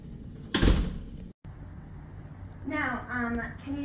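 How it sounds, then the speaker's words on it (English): A door is opened and shut by a child using a manual wheelchair: a loud bang-like clatter, then a brief cut to silence, followed by someone talking nearby. "how you would open this door and get yourself through it and then shut the door behind you"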